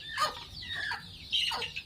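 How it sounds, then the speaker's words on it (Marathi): Hens and chicks in a village backyard poultry setup, with hens settling to lay in a tin box, give a few short, sharp squawks and clucks at close range with no talking. "कोंबड्याचे पिल्लं बघा, कोंबड्या बघा"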